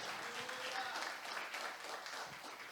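A church congregation applauding together, a steady wash of clapping held at an even level throughout, with faint voices under it.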